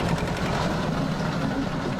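A steady, low tractor engine rumble idles continuously with a faint vibrating drone, loud and close throughout.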